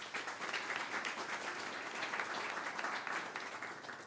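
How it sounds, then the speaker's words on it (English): Applause from a summit audience in a conference hall, steady and even, with many hands clapping at moderate distance for the whole stretch. "So please, big applause for them."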